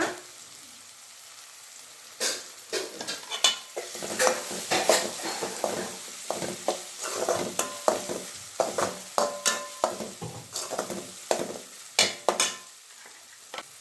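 Tomato masala frying in oil in a pan for egg pasta, a soft sizzle under frequent close scraping and clinking stirs of a spoon against the pan, irregular and busy, with no voices.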